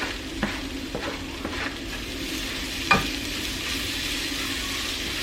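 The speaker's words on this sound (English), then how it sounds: "So now I'm going to add some onion in here" Onion added to food frying in a pan, a steady close sizzle with a few soft scrapes and taps of a utensil and one sharper clink partway through.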